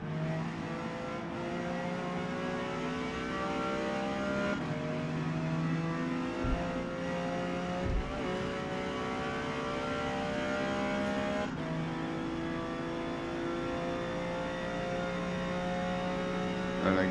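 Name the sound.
Ferrari Dino engine racing in Forza Motorsport video game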